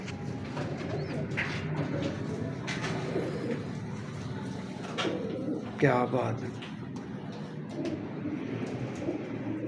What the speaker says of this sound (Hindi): आप ये टेम्परेचर किंग कबूतर देख रहे हैं